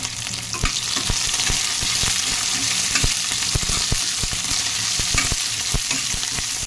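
Green chillies sizzle loudly in hot oil with cumin, mustard seeds and minced garlic, a constant frying hiss broken by frequent sharp pops and crackles as the pan is stirred.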